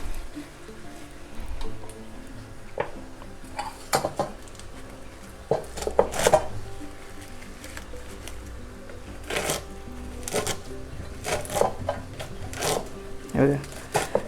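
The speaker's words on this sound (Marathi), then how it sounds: "त्याला जरा असं जाड जाड असं चिरून घेणार आहे" Irregular knife chops thud on a cutting board, cutting bharangi wild leafy greens coarsely in scattered bursts with pauses between, with soft rustling of leaves in between.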